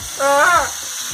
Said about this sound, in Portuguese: Depois de grelhar de um lado, vira pra grelhar um pouco do outro lado.